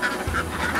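Farm ducks give a few short nasal quacks and honks, close and moderately loud, spread across a brief moment over a low background rumble.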